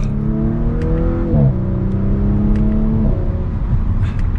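A 2023 Audi S5 Sportback in dynamic mode accelerates with a smooth, fairly muted engine tone that rises in pitch, drops at two gear changes, and climbs again over steady road noise.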